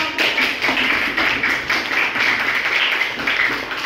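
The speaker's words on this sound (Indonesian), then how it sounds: "Oke, beri tepuk tangan dulu untuk" Students in a classroom break into a round of quick, close clapping that holds steady for a few seconds before trailing off.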